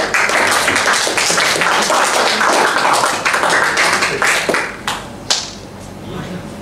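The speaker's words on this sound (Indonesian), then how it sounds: "tepuk tangan untuk kelompok 2" A classroom audience claps for a student group after its presentation in a teacher-training lesson, steady dense clapping filling the room with a few sharper claps near the end.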